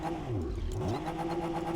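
A DeLorean in the Fortnite video game revs its engine once, a short rising and falling growl that swells and settles into a steady idle.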